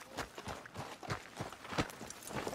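Horse hooves clip-clop in Red Dead Redemption 2, a brisk run of near, moderately loud hoofbeats with a steady uneven rhythm and no talk over them.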